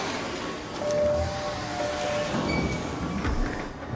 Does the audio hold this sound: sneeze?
no